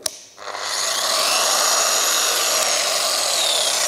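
A Fein F-IRON Jig 26 AS jigsaw runs at about half speed: after a short click it eases up through a soft start, then holds a loud, steady, close mechanical whir with no voices.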